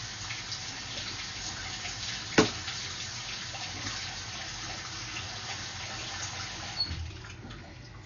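Water gurgling and trickling through a punched-through floor drain in a house, a steady running wash with one sharp knock partway through, then the flow tapering off at the end, with no talking.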